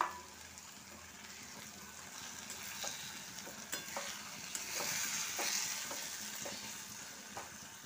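Shrimp frying in a pan with onion and spices, a continuous close sizzle that swells midway, broken by intermittent scraping stirs and clinks of the spatula, with no voices.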